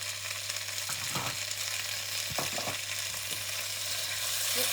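Char kway teow noodles stir-frying with light soy sauce in a hot pan, giving a loud, continuous sizzle broken by a few scraping stir strokes.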